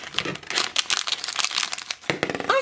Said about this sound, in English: So we're just going to carefully cut across the top.